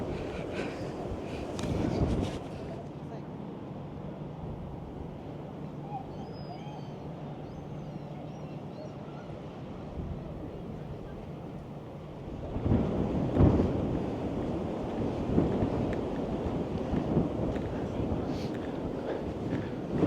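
Heavy gusts buffet the microphone with deep rumbling roars, easing to a steadier low blustering before surging loudly again.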